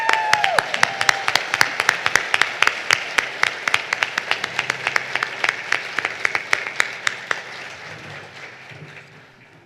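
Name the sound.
audience cheering and clapping at scholarship luncheon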